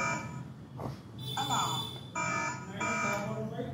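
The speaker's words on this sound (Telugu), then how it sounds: "అలారం స్టార్ట్ అయింది." A Hikvision intrusion alarm kit sounds after its magnetic door sensor is triggered. It gives repeated loud, tonal electronic bursts with short gaps between them, heard close up in a room.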